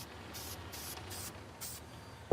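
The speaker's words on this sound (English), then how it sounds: "I'm going to spray some down on this block of foam" 74 spray adhesive is sprayed from a can onto a block of foam in several short, soft hissing bursts with brief pauses between them.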